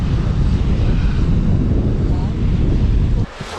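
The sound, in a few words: Arctic Ocean waves and wind on the shore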